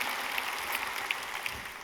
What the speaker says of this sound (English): I want everyone just to give you another round of applause